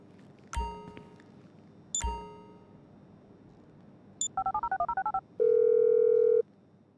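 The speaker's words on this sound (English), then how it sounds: "I'm making the call." Phone keypad dialing in GTA 5: two ringing dial chimes, a rapid burst of about ten touch-tones, then a steady tone, all clear and close with no talk.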